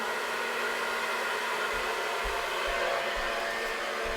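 A hair dryer blows steadily while hair is being styled, a loud continuous rushing whoosh close to the mic that holds level throughout with no voice over it.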